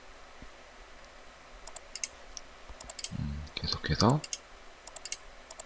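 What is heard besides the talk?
computer mouse clicking while using SketchUp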